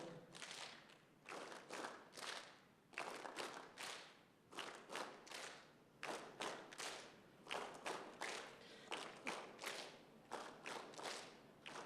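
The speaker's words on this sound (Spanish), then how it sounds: "solo un aplauso, pero con las manos bien abiertas, un aplauso así seco" A conference audience claps in dry, rhythmic unison: sharp grouped claps repeated in a steady pattern, with short pauses between bursts, echoing in a hall.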